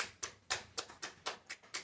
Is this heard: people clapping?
yes